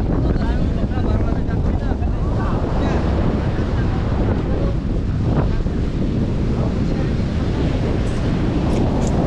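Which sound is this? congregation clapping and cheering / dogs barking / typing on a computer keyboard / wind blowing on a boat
wind blowing on a boat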